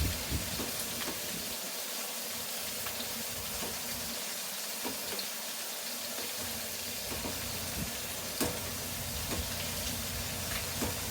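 Sausage and meatballs sizzling in a skillet, a continuous hissing fry with scattered pops and crackles, steady and moderately close with no voices.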